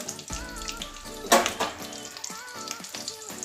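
Fish roe sizzles and fries in a pan for a tomato curry, a steady crackling hiss with a few spitting pops and stirring scrapes, close and fairly loud.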